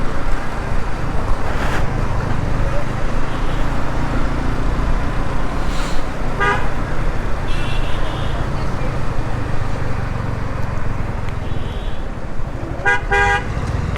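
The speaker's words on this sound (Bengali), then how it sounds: "একটা নোয়া নিয়ে বেরিয়ে গেছে রাস্তা আর হর্ন টিপেই ধরে রাখছে" A Toyota Noah honks in several short, repeated bursts in road traffic, set against a constant rush of engine and road noise, with voices faintly present.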